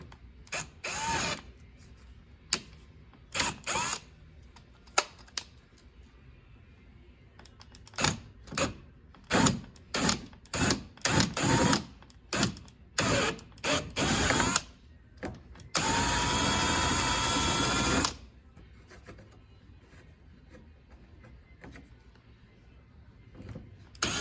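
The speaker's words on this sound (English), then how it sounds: "you're just drilling through 2 thin layers of plastic" A power drill whirs in repeated short bursts through two thin layers of plastic while installing a front splitter, many quick stops and starts, then one longer steady run, close by with quiet gaps between.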